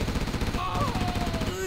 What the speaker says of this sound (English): Gatling cannon.